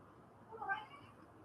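A pet cat indoors giving a single soft, faint meow, brief and quiet against a low background hum.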